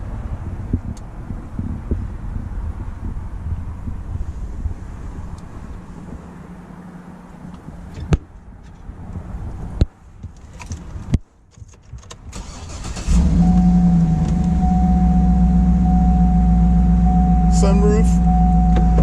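A 2007 Cadillac Escalade ESV AWD, outdoors in Las Vegas, cranks and fires up after a stretch of wind noise and a few sharp clicks, then settles into a loud, steady idle close by.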